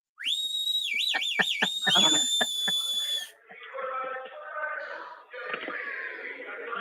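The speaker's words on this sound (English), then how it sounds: "y'all hear that whistle" A loud, high whistle warbles in quick trills, then gives way to fainter, lower tonal sounds and rustling after a brief pause.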